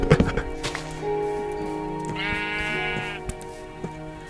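Minecraft sheep bleating in a wavering, drawn-out call, with a few soft thumps and clicks around it, set against a steady tonal game background.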